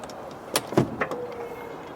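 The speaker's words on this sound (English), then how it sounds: "my personal favorite, the electric fold-down seat" The electric fold-down third-row seat of a 2010 Lincoln MKT, a few sharp mechanical clicks followed by a faint, steady motor whir close by.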